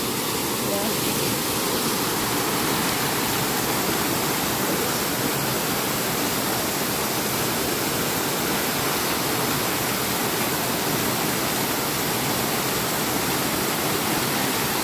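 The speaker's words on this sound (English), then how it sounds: "even the sound from the water." Water pours continuously at a waterfall swimming spot, a loud, steady broadband rush with no breaks.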